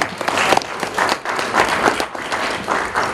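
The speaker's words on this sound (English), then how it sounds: "I think we can clap on this one." Room of officials in Abuja applauding after signing a memorandum of understanding on justice delivery, a close, lively burst of many hands clapping that swells and fades for about three seconds.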